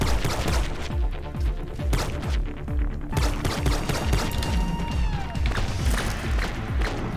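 Rapid bursts of fire from the main gun in the shooter game Doomsday Hunters, a dense, loud stream of repeated shots with heavy thumps and crashes running nearly unbroken throughout.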